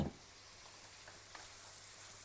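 Borscht sizzles faintly in a frying pan as it is stirred, a soft continuous crackle with a brief louder burst at the start and no voices.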